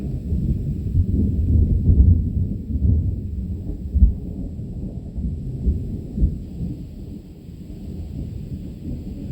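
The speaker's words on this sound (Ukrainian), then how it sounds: "Такий от цікавий грім. А десь такий грім постійно." Thunder rolls low and steady through a hot, dry Michigan afternoon with hardly any wind, a continuous deep rumble with a few stronger swells, heard alone.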